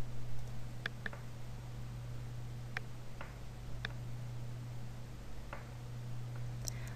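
Computer mouse clicks, a few sharp, isolated ticks spaced irregularly, close and quiet over a constant low electrical hum.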